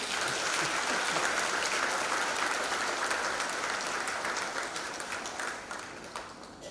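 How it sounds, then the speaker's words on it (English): Sustained applause from a large audience at a university graduation ceremony, steady dense clapping that holds loud throughout and eases slightly toward the end. "A big round of applause."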